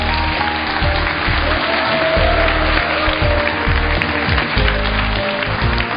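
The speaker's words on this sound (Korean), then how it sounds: "여러분, 한기옥 주무관님 박수로 만나보겠습니다" An audience at a televised Seosan city community talk program gives a continuous round of applause to welcome a guest, with a low, thumping background layer running beneath the clapping.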